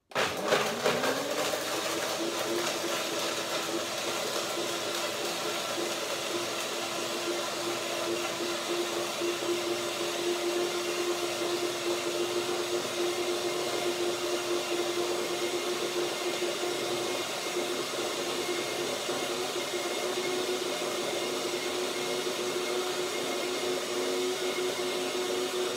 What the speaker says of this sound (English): The blender sounds a little bit nervous.